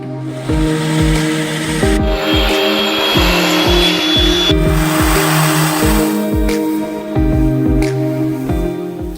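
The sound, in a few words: concrete slab polisher grinding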